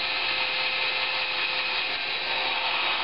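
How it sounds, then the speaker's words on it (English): A drill bores a hole in wood while a star tracker is built in a makeshift workshop, giving a continuous, loud, steady grinding whir that runs for the whole stretch. "So I'm going to drill a hole"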